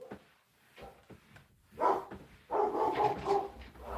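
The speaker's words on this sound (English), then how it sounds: "My dogs have been going crazy all morning." Dogs barking indoors during a sewing and quilting prep session, a few sharp barks followed by a denser burst of repeated barking, moderately loud and close.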